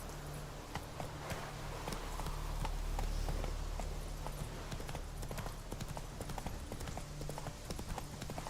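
Horse hooves clop at a steady galloping pace as a rider travels on horseback in The Witcher 3, a continuous rhythmic patter over a low ambient game hum.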